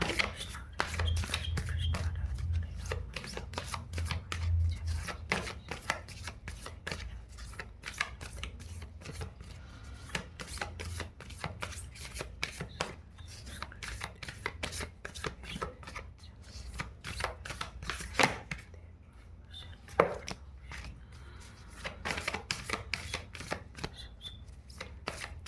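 Tarot cards being shuffled by hand, a long run of quick, soft, close riffling slaps and flicks in an uneven rhythm with brief gaps, no voices.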